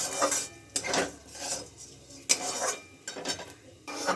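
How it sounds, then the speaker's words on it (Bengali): Dry-roasted masoor and moong lentils poured from a hot pan into a bowl, giving several close bursts of rattling, scraping grains with clinks of metal cookware, and no talk. "এবার আমি ডালটা ঢেলে নিচ্ছি একটা বাটির মধ্যে।"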